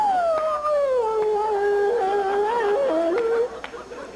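A human voice imitates a dog, giving a long, drawn-out howling whine that slides in pitch and wavers before breaking off. The voice is close and fairly loud.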